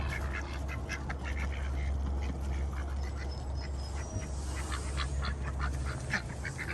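Ducks kept for a move out to a pond area quack repeatedly in a busy, overlapping chorus over a low steady background hum, moderately close and continuous.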